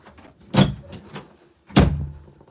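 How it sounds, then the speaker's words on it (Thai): A door in a house in Germany is handled, with two distinct loud thuds of it shutting or swinging, separated by about a second and faint rustling between. "เราปิดประตูแล้วนี่ทำไมมันเปิดอ่ะ"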